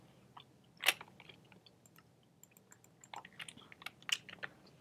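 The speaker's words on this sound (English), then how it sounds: "Can you not chew in my ear?" Wet crunching and smacking of someone chewing right up against a headset microphone during a modded survival game session: one loud bite early, then a steady patter of quieter chewing clicks.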